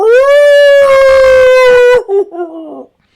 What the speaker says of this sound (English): And set on a terrible howl.